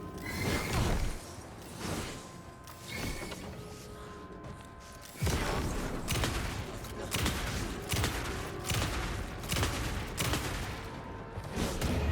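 A black rot gun firing in the video game Alan Wake 2: a run of heavy, booming shots and bursts, loud and near, coming in irregular clusters with roaring noise between them.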